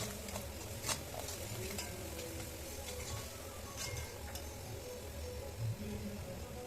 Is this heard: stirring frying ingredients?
yes